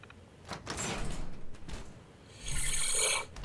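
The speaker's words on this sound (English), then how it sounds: "Please open the door." An armory door in a pre-war fort opens in Fallout 4 with a heavy mechanical scraping and sliding grind in two surges, the second ending in a harsher rasping hiss before it cuts off.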